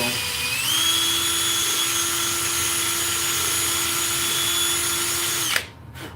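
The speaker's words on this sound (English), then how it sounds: "drilling out another opening." A power drill runs steadily as it bores out an opening in wood, a loud, close, continuous whine that holds its pitch for several seconds before cutting off abruptly.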